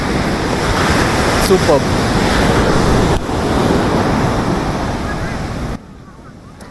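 Waves washing in on quiet Ramayapatnam beach, a loud continuous surf roar with wind buffeting the microphone and a brief spoken word, fading to softer surf near the end.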